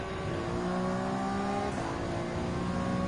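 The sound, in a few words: race car engines overtaking in video game Gran Turismo 7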